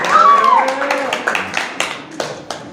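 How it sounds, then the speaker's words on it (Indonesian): A short burst of hand clapping from a small group, quickly thinning into scattered claps over a background of voices. "Tepuk tangan untuk kelompok 3 dan kelompok"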